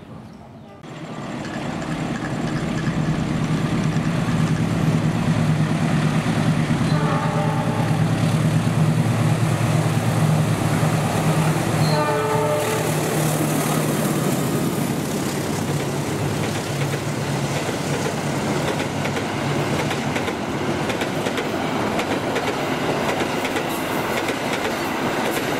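An Indonesian train passes at Bekasi Timur, its loud rumble building quickly and holding steady, with rhythmic clickety-clack of wheels over rail joints and a brief horn-like tone in the middle.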